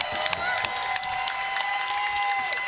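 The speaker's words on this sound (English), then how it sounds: "How about one more large round of applause for both of these warriors?" Applause and cheering from the crowd after a pillow fight championship final goes the distance; steady clapping with a few louder sharp claps and a sustained whistle-like tone over the crowd noise.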